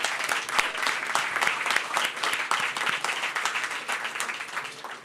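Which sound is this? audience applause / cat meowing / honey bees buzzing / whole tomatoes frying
audience applause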